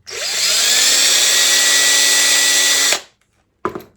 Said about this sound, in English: I can drill another hole